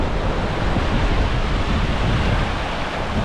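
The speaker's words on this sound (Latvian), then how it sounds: "Un šitā izskatās Atlantijas okeāns." Atlantic Ocean surf rolls onto Boavista beach as a dense, continuous wash of breaking waves mixed with gusty wind buffeting the microphone, loud and close, with no voices.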